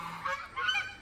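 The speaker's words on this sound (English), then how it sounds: "the goose that's laying in the doorway." A goose lying in a doorway gives two short, nasal honks in quick succession, close by and moderately loud, with no talking.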